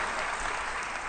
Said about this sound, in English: a big round of applause to the panel as they move back to their seats